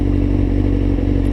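A 600 motorcycle engine idles steadily and smoothly up close, a loud, even, low throbbing rumble with no change in pace and no talk.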